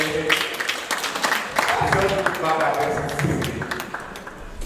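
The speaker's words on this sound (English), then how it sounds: "A round of applause for it." Scattered applause from a small audience at a cybersecurity meetup, moderate and steady for several seconds, with a voice speaking over it.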